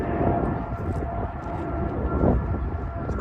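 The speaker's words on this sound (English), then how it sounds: "That's a beautiful takeoff." An airliner bound for Tokyo takes off from Vancouver International, a loud, steady roar of jet engines that holds without a break, swelling slightly toward the end.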